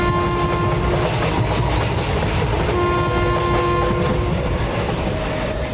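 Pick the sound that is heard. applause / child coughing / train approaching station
train approaching station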